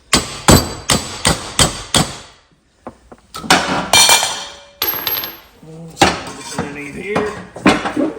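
Sharp metallic hammer blows drive a new bearing onto the shaft of a Husqvarna lawn mower whose motor had locked up, a rapid burst of close, ringing strikes followed by scattered clanks and handling noises.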